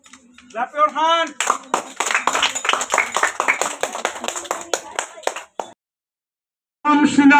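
Classroom of children clapping hands for prize winners at a Teachers Day event, dense rapid applause lasting several seconds, with a brief pause before another burst, while voices speak over it.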